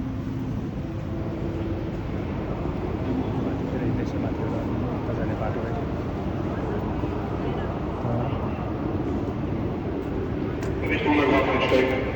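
A train is about to depart from a station, giving off a steady, loud, low rumble that holds throughout, with a brighter hiss rising near the end as people talk under it.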